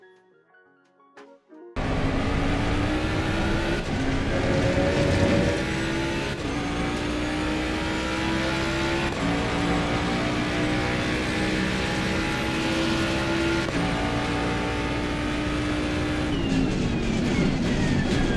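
A race car engine in a racing video game revs loudly after a brief quiet start, climbing through gears with repeated shifts and a steady high-pitched drone.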